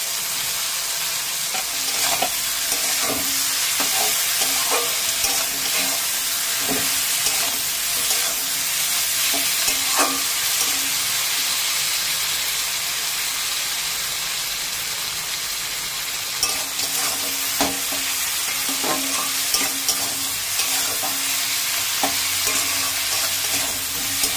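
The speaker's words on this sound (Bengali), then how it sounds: "এখন এই মশলার মধ্যে দিয়ে দেবো মাছের মাথাগুলো।" Katla fish heads fry in a nut-thickened spice paste, giving a continuous sizzle and hiss broken by scattered clinks and scrapes of stirring in the pan, with no talking.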